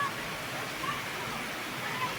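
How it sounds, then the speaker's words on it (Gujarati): Rain falling on a rainy day, a steady soft hiss of water without breaks, fairly faint and even throughout. "સરસ મજાનો વરસાદ વરસે"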